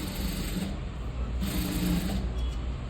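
Sewing machine stitching thread piping onto thick velvet fabric, a steady close mechanical whirr and hum running throughout with a slight dip in the middle.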